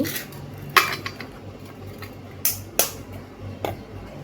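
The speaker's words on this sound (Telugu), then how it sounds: "త్రీ ఎగ్స్ వేసేసుకొని బ్యాటర్ మంచిగా మంచిగా కలిపేసుకోవాలి" Brownie batter with eggs being mixed in a bowl: a few sharp clinks of a utensil against the bowl stand out over a soft, quiet background, with no talking.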